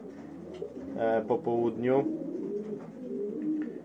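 Racing pigeons coo softly in low, rounded calls beneath a man's close, ongoing speech.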